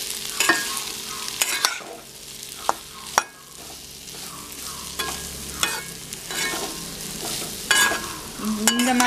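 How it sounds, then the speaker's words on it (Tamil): Elephant yam pieces fry on low heat in a pan, giving a steady close sizzle broken by sharp clicks and scrapes of stirring, with no voices. "இனி சிம்மில் வச்சு நல்லா ஃப்ரை ஆகட்டும்."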